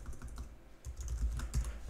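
Rapid keystrokes on a computer keyboard while writing code, a close, steady patter of clicks with no voices.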